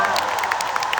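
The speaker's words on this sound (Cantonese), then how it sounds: "再次俾啲掌聲唔該" Concert audience applauding and cheering at a live show, a dense, steady wash of clapping and crowd noise filling the short stretch at even loudness.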